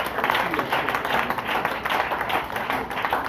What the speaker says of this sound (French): Acclame Jésus pour ta vie.